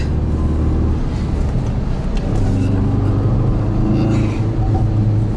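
A 2017 Ford Focus RS drives through a few bends, its engine a steady loud rumble from inside the cabin, rising and falling slightly with the throttle, with no talk over it.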